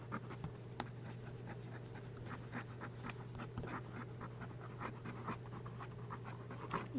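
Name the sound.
Bulow X530 fountain pen writing fast on paper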